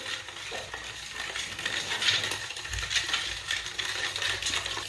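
Sweet tikki dough being stirred and mixed by hand with a spoonful of oil in a bowl, a steady close scraping and squelching texture with light clinks throughout, no voices.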